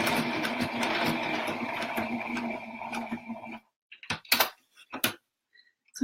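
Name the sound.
sewing machine top stitching over applique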